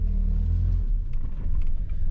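A car rumbles at low speed through a three-point turn on a storm-littered road after Storm Arwen in Angus, Scotland, with a steady close engine drone and faint crackles of debris under the tyres.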